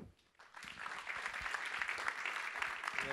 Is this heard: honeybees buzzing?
no